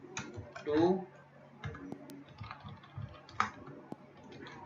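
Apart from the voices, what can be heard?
computer keyboard typing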